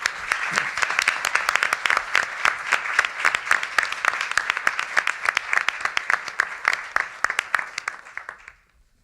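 An audience applauds panelists at an environmental webcast event, sustained crisp clapping with distinct individual claps throughout, fading out at the end.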